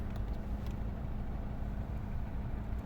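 A 2009 Skoda Roomster Scout with a 1.4 MPI petrol engine converted to run on gas, idling steadily at close range with a low, even rumble and no voices.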